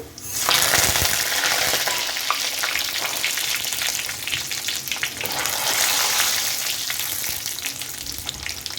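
Cumin, mustard seeds, dried red chillies and curry leaves tempering in hot oil for a village-style bitter gourd fry, giving a loud, steady crackling sizzle with sharp popping spits throughout, no voices.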